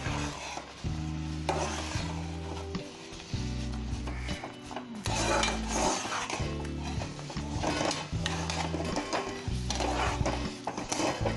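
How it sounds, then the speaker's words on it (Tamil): Semolina (rava) for upma being stirred in a pan, with repeated scraping and clinking of a utensil against the pan in uneven strokes and a soft sizzle beneath, close up, with no talking. "இப்போ இந்த ரவாவை கலக்குறோம்"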